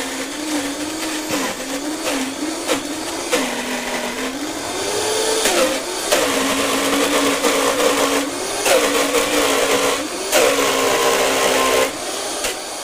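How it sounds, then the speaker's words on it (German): A blender runs steadily, blending vegan cake ingredients: a loud, continuous whirring motor with a wavering pitch that surges louder partway through, with brief pitch dips as the load shifts and no talk. "Wie Sie sehen, der Mixer geht gut."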